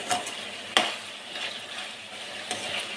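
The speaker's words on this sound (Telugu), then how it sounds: "ఈ ఆయిల్లోనే ఈ చికెన్ మొత్తాన్ని కుక్ చేసుకోవాలి" Chicken pieces fry in hot oil in a pan, giving a soft, steady sizzle under occasional sharp stirring and utensil clinks, with no voices.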